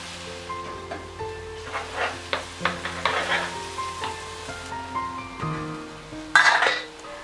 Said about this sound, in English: Saute the ginger garlic green chilies that was pulsed in the grinder